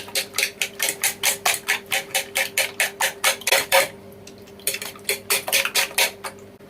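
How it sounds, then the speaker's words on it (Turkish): Two eggs are beaten briskly in a bowl, giving a fast, regular run of clinking strokes that pauses briefly, then resumes at the same lively rhythm, close and without speech. "İki tane yumurta kullanacağım. İki yumurta yeterli. Şöyle bir çırpalım. Yumurtalarımızı dağılsın."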